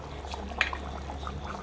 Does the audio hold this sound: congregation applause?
no